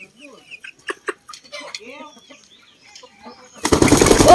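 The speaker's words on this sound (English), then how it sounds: "some of our chickens are over here" Backyard chickens clucking near their pen, with sheep close by. Several short, close clucks and squawks come over the first few seconds, followed by a burst of loud rustling or flapping noise at the end.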